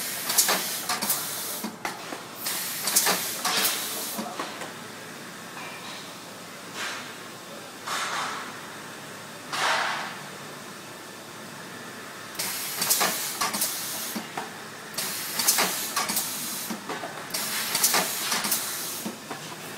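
An Econocorp Twinseal carton packaging machine runs with bursts of hissing, pneumatic air releases and mechanical clatter, separated by quieter stretches of steady machine hum.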